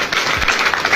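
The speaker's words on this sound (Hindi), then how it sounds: "ताली बजा दीजिए।" An audience claps together at a motivational RCM business seminar, a dense burst of applause that carries steadily through the whole moment with no pause.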